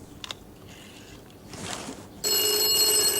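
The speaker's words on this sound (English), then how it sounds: "And it's ringing in the studio." A few faint clicks and rustles, then a loud electronic telephone ring starts abruptly and holds steady to the end.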